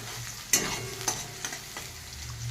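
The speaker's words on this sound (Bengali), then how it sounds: "মিডিয়াম সাইজের একটা পেঁয়াজ দিয়ে দিলাম কুচি করে। একটু ভালো করে ভেজে নিতে হবে।" A chopped medium onion sizzles with half a spoon of whole cumin in a pan, a steady fry broken by several sharp scraping stirs of a spatula.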